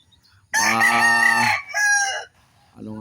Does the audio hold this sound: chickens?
yes